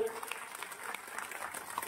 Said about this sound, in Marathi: सुंदर नियोजक संयोजकासाठी जोरदार टाळ्या एकदा होऊनच चालत